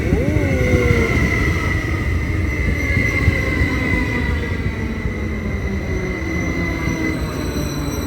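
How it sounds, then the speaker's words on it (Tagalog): A northbound local commuter train pulls into a station platform bound for San Francisco, with a steady loud rumble of rolling railcars and a high, drawn-out wheel squeal throughout, plus brief screeching near the start. "Ayan na po yung train natin guys."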